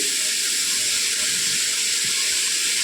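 Curry leaves hitting hot oil for vegetable fried rice, a loud, steady, continuous sizzle and hiss close up, with no talk over it.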